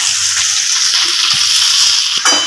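Chopped mixed leafy greens from a rooftop garden fry in a pan, a loud continuous sizzle with occasional soft stirring knocks and a brief scrape near the end, no voices.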